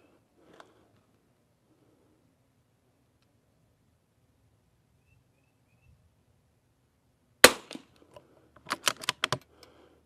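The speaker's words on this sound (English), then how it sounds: "We're gonna put five more rounds on the third target downrange." Savage rifle shots fired at a target downrange at a shooting range, heard as a sharp, loud report around the middle followed by a quick cluster of several crisp cracks, after a long stretch of near silence.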